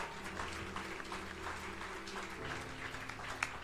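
A church congregation applauding during a French-language service, a sustained, moderately loud wash of many hands clapping together with an organ or keyboard chord held underneath.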